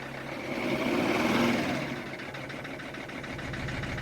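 A cold engine idles roughly, stumbling and sputtering with an uneven, lumpy rhythm and a rumbling swell early on. It is heard alone at close range.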